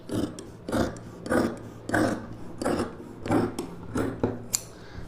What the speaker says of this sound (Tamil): இப்போ இதில் நம்ம 3 ப்ளவுஸுக்கு ஒரே டைமில் ஸ்லீவை கட் பண்ண போகிறோம்.